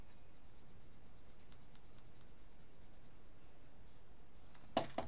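An eraser rubs softly on paper in short, faint scratchy strokes, close up and quiet, ending with a couple of sharper taps.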